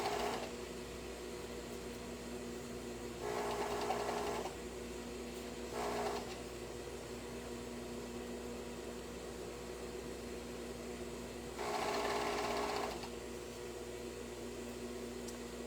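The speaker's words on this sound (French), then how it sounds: "Donc, je vais coudre ça ici." A sewing machine stitches fabric in three short bursts, with a longer run near the end, over a quiet, steady background hum in an indoor sewing room.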